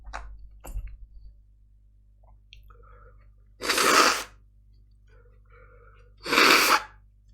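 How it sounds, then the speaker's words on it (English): Two loud, forceful nose blows, a few seconds apart, with quiet shuffling and faint rustling between them. "I am going to blow my nose."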